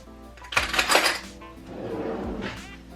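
A spoon grabbed from among dishes in a kitchen while making deviled eggs, a short burst of metallic clinks and clatter followed by softer rattling, close and without speech.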